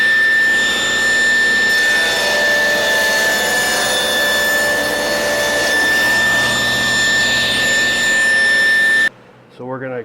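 A table saw cuts a heavy wooden end grain cutting board in one sustained loud whine with steady high motor tones, stopping abruptly near the end as the blade spins down.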